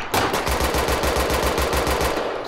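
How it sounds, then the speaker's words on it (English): Rapid automatic gunfire from a police patrol shootout in the GTA IV video game, a loud, even burst of about twenty evenly spaced shots with no talking. "Shots fired, Senko."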